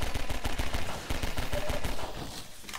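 Rapid pistol shots from the video game Half-Life 2 Episode 2, a steady run of sharp close bangs over game sound, with no talk.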